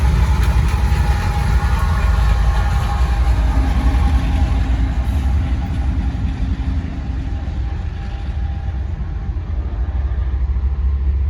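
A Canadian National freight train with DPU locomotive 3877, a 100th-anniversary unit, rolls past on a Norfolk Southern line as a loud, continuous rumble with wheel and engine drone that stays close throughout.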